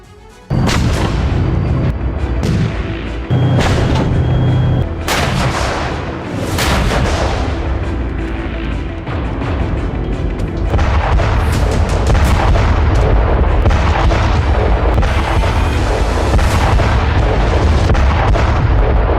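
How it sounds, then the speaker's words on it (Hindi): Russian army artillery strikes on Ukrainian cities, a loud relentless barrage of heavy booms and blasts in rapid succession with rumbling echoes throughout. "पुतिन सेना यूक्रेनी शहरों पर इसी तरह से भीषण प्रहार कर रही है।"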